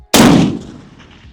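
One loud sharp blast from an AK-50 launcher, a single close report with a quick attack, then a fading rumbling tail on an outdoor range.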